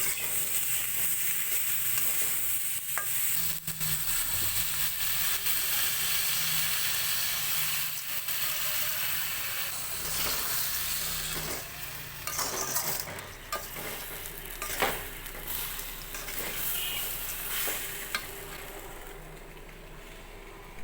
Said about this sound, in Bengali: এবার চাল ডাল আর সবজি ভাজা হয়ে গেছে দিয়ে দেবো